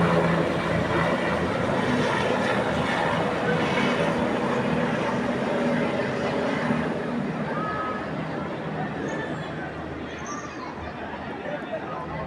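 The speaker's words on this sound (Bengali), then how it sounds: "র্যাবের হেলিকপ্টারগুলো" A RAB helicopter flying overhead during a July 2024 crackdown near Jamuna Future Park in Badda, Dhaka, a loud steady engine and rotor roar filling the air, slowly easing, with crowd noise underneath.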